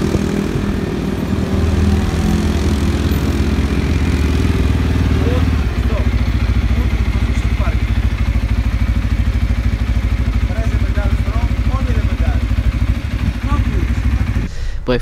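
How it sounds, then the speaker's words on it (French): A quad bike (ATV) engine runs steadily and loudly throughout a ride on an island, a constant close drone with speech heard over it. "T'as filmé l'aller-retour en quad avec le mec qui était sur ton dos"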